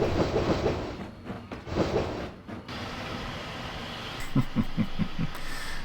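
A goods train rumbles past with rhythmic clattering of wheels over rail joints, loud and close, then fading to a lower rumble; a cartoon model-railway engine scene.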